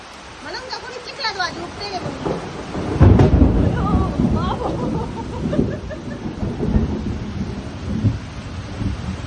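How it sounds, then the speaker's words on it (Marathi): Steady rain falls with deep rumbles of thunder, loud and close, on a farm while people talk over the downpour as vegetables are washed. "चालू आहे पाऊस इकडे चालू आहे"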